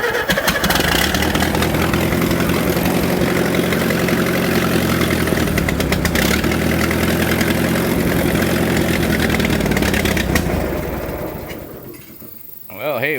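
A 1941 Allis Chalmers tractor engine, just worked on at the carburetor, fires and settles into a loud, steady, rough idle that runs close by for several seconds before briefly dropping off.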